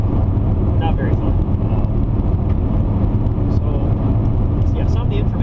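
Car tires rolling over a gravel road, a constant loud crunching roar of stones and road noise from inside the moving car, with someone talking over it the whole time.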